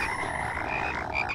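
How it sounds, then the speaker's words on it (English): Frogs croaking in the horror video game Outlast, a steady dense chorus of calls held at an even level throughout, with no talk over it. "The frogs called out someone."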